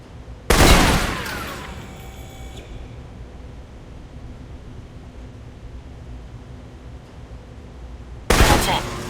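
Rifle fire in the Alpha Protocol video game: a loud burst of gunfire rings out at the start, fades into a quiet hiss, then another sharp burst hits near the end.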